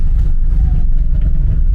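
Road traffic in Kenya, a loud close rumble of car engines with some revving, steady over a couple of seconds and no clear talk.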